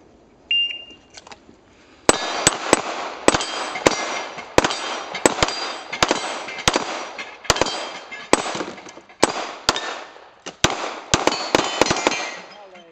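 Gunshots at a shooting range during a timed practical-shooting stage: a rapid string of sharp, loud close reports in uneven bursts after a start beep, following shouted range commands.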